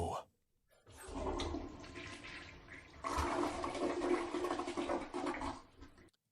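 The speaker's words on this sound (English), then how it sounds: "Eco-friendly flush. Eco-friendly flush." An eco-friendly toilet flushing, a short click followed by a rising rush of water that swells louder midway, gurgles, then drains away quickly, close to the microphone with no talking.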